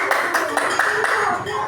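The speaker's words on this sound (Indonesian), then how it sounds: "beri tepuk tangan untuk kelompok batang" Pupils in a fourth-grade classroom clap for a student group, a brief, fairly loud patter of hand claps over a busy room background.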